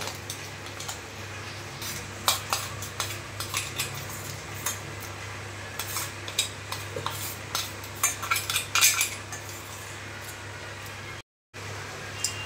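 A spoon stirs rice into thickened mango milk in a metal pot, giving repeated clinks and scrapes against the sides over a low steady hum, near and moderately loud, broken by a brief moment of silence near the end.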